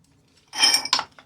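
A metal socket set clatters as it is handled during a chainsaw repair, with a bright burst of clinking, a second sharp clink and a faint final tap, close and without talk.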